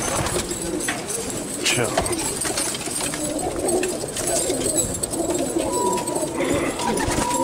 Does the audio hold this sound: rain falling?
no